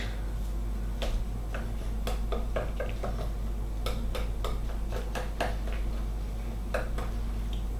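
Small whisk beating chicken tikka marinade in a bowl, giving irregular sharp clicks and taps against the sides over a steady low hum, close by with no speech.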